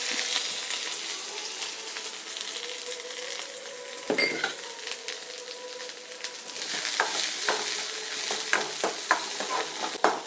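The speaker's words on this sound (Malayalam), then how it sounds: "നെയ്യ് ചൂടാകുമ്പോൾ ചെറിയ ഉള്ളി ഇട്ട് കൊടുക്കാം." Small onions sizzle in hot ghee in a small pan. The frying hiss holds steady while a spoon stirs and scrapes in quick, uneven strokes nearby.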